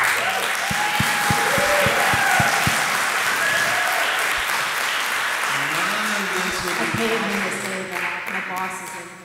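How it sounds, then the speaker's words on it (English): An audience at an artist talk gives a loud, sustained round of applause with some louder claps standing out early on, while a person starts talking over the clapping as it dies down toward the end. "I just want to start by giving a really loud, raucous round of applause for Monica Obniski."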